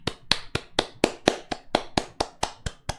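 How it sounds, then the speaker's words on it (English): Steady hand clapping, about thirteen sharp claps at an even pace, close and fairly loud, applauding a gift during an unboxing. "Everyone give Tango Bunny a clap."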